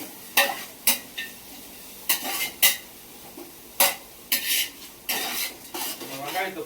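A utensil scrapes and clanks against a cooking pot as onions are stirred for biryani, sharp irregular bursts close up with a faint sizzle between strokes.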